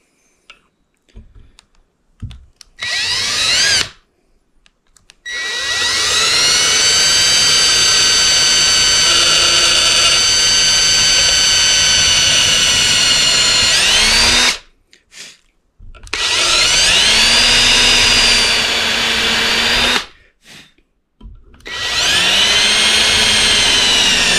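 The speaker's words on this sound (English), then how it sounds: "I'd say I drilled about a good inch into there," A power drill bores into a whitetail deer antler, giving a loud, sustained high-pitched whine broken into several bursts with short pauses between, alone with no talking.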